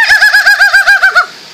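A voice imitating a peahen call, a rapid string of about nine bright, warbling honks that stops abruptly.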